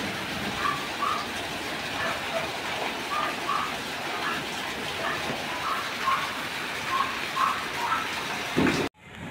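A steady, heavy downpour hissing on a roof nearby, continuous and fairly loud, ending abruptly in near silence.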